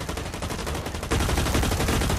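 Rapid automatic gunfire from the online shooter Blacklight Retribution, a dense, loud burst of continuous shots that grows heavier partway through, with no talk.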